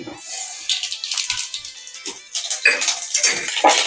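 Mustard seeds and cumin hit hot coconut oil in a pan, bursting into a bright, crackling sizzle that swells and spits in uneven waves, with a few faint clinks at the start.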